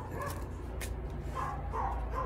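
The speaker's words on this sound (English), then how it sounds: "So sorry about the dogs barking" Dogs bark and yip somewhere in the background, a few scattered, fairly faint barks over a steady low hum of ambient noise.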